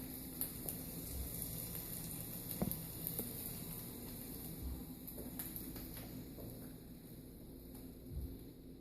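Egg and meat frying in a pan, a steady soft sizzle and patter with scattered pops and a few light clinks of a utensil, fairly close, no talk.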